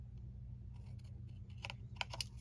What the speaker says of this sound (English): Let's grab a pair of scissors.